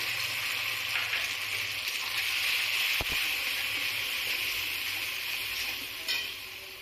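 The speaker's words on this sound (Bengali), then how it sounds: "এবার বেটে রাখা পোস্ত, সর্ষে আর রাঁধুনি আমি এটা কড়াইয়ে দিয়ে দিলাম।" A paste of ground poppy seed, mustard and radhuni spice frying in a wok gives a steady, loud sizzle throughout, with one sharp knock of a utensil against the pan.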